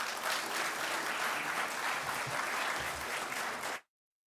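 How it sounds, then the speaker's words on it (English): An audience at an awards gala applauds in a sustained, even wash of clapping that cuts off abruptly near the end. "I hope you feel the same way too, by your applause, to welcome to the stage Mr. Kweku Jelani."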